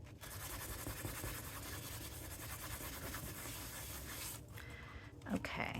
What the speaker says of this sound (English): it kind of does need a little once over with the tissue